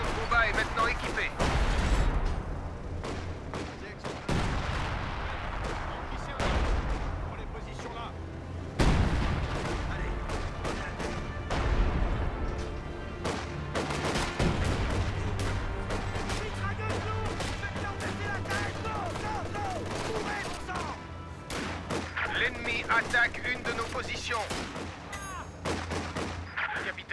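Battlefield combat in the WWII strategy game Company of Heroes 2, Ardennes Assault: continuous rattling gunfire and heavy artillery thumps, with bursts and booms recurring throughout, while voices talk over the din at times.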